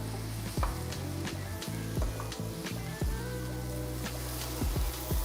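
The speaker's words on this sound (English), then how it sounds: "I'm going to continue to stir my mushrooms," Mushrooms and onions frying in a pan give a constant loud sizzle, with repeated soft knocks and scrapes from stirring at irregular intervals, close up and without talk.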